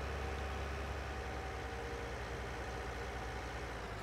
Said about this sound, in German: So, da kommt schon der nächste Traktor.